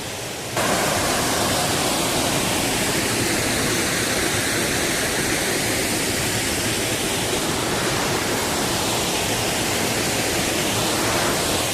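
Kohed waterfall roaring in a steady, dense wash of falling water, loud and close, continuous for the whole stretch with no voices.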